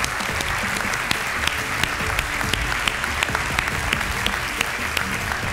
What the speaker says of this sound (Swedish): Ge alla 3 en stor applåd.